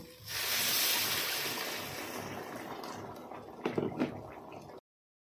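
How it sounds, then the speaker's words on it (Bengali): A rohu fish curry with kohlrabi and peas simmers in a pan, giving a steady close hiss with a brief cluster of bubbling pops near the end, then sudden silence. "ঝোল টকবক করে ফুটছে"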